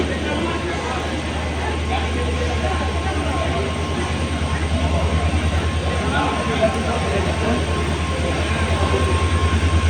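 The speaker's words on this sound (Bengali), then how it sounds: "এই যে আমরা যাচ্ছি, এখন ট্রেনে উঠবো।" A train rumbles loud and close in a steady, continuous roar, with a faint rhythmic low thumping, like wheels on track joints, building toward the end.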